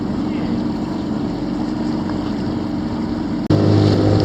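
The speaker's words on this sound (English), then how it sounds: "See the boat how it jumps around." A boat motoring over choppy Lake Pontchartrain water, with waves around 1.5 feet, gives a steady close engine drone mixed with wind and water noise. It runs without a break and grows louder near the end.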